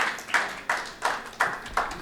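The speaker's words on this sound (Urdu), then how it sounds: "زوردار تالیوں کے ساتھ استقبال کریں" Audience members at a poetry gathering clap to welcome the poet Azm Shakiri, producing a few distinct, evenly spaced claps in a slow rhythm rather than a full round of applause.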